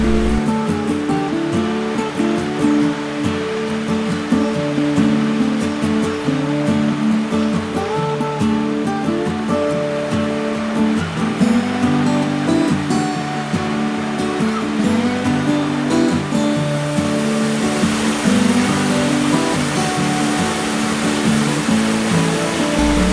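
Steady, full-bodied rush of a sunlit early-winter waterfall flowing through ice at Tettegouche State Park, Minnesota, loud and continuous throughout with no breaks or other distinct sounds.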